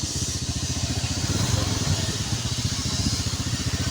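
A motorcycle engine runs steadily on the road to a waterfall, a close, pulsing mid-pitched drone that holds continuously throughout with hiss on top.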